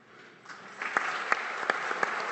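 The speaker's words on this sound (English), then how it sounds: "I'm clapping for you, Clint." Audience at a business panel on reconciliation starting to applaud as the panel is introduced, soft clapping that swells from quiet with a few distinct louder claps standing out, moderately distant.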